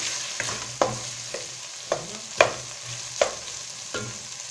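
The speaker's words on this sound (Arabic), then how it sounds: "جوست نقلي الخضره" Vegetables sizzle steadily in an oiled pan while a utensil stirs them, with sharp scrapes and clacks recurring every second or so over the constant frying hiss.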